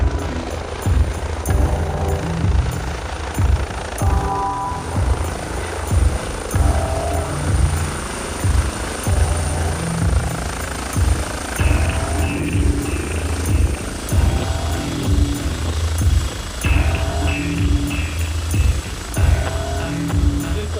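A mountain rescue helicopter landing in the Alps gives off a close, steady rotor thump and engine whine that pulses throughout, loud and unbroken, without talk.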